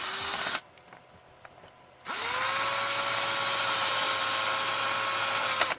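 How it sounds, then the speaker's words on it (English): A power drill drives screws into an RC car body during a body swap on an HBX 2995, a high whine running briefly, pausing, then a long steady run that winds down at the end. "Handy dandy power tools."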